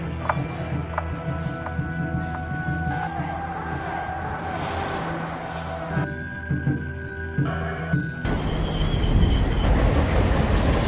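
A train runs along the rails with a continuous rumble and sustained, squealing wheel tones, turning into a louder, broadband roar in the final seconds.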